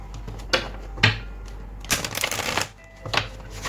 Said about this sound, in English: I will draw 2 oracle cards. The fairy oracle.